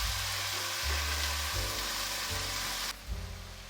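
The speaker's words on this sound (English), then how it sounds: "I'm going to stir around these onions a little bit more" Pork and onions frying in a pan beside cooking cabbage, a dense continuous sizzle over a low hum, with a brief stirring shuffle near the end.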